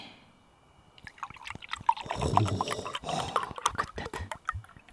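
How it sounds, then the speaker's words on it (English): Chocolate milk glugs and splashes as it pours from a bottle into a container, with gurgling drips and bubbling over a few seconds, close by. "Let's pour it in."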